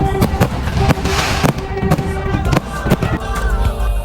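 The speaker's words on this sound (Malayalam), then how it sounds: "അത് കഴിഞ്ഞിട്ട് പിന്നെ നമുക്ക് കുറച്ചൊരു അടിപൊളി ഫയർ വർക്ക് സെഷൻസ് ഒക്കെ ഉണ്ടായിരുന്നു" Fireworks at an engagement celebration held in the middle of a river, with sharp loud bangs and crackling bursts repeating irregularly over a busy outdoor crowd din, some voices mixed in.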